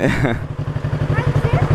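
A motorcycle engine runs close by in a fast, even pulsing throb as the throttle is worked, with people talking and laughing nearby.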